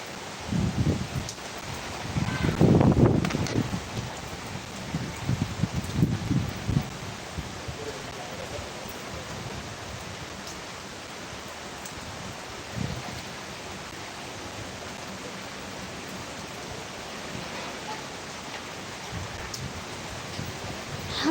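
Heavy rain in Tanuku falls as a steady, dense hiss throughout, with louder splattering bursts near the start and a few brief voices or knocks over it.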